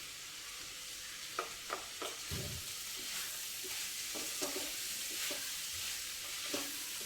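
Sliced ridge gourd and chana dal frying in a pan, a soft continuous sizzle broken by a few sharp scrapes and taps of a spoon as the mixture is stirred.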